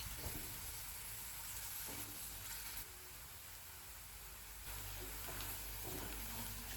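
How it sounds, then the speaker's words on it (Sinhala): Chopped onions frying in a pan until golden, a steady close sizzle and hiss running the whole time with faint stirring scrapes. "දැන් ඒකට පොඩියට කපපු ලුණු එකතු කරලා ඒක රන්වන් පාට වෙනකල් බැද ගන්න"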